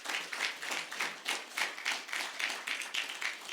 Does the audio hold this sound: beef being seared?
no